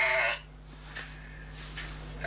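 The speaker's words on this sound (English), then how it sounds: "I think we've got sheep in the place." Sheep bleat faintly in short calls in the background, with one louder, fuller bleat at the start followed by two fainter, distant cries over a steady low hum.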